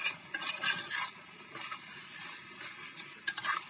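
Vermicelli being stirred in milk in a pan while cooking down, with scraping spoon strokes in short bursts against a soft background sizzle, close and fairly quiet, no voices.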